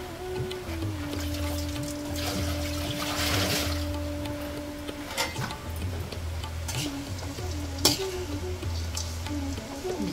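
Fennel seeds and cardamom frying in ghee for a Kumaoni festival dish, a steady soft sizzle with occasional stirring clicks and a faint tonal hum running beneath, no talking.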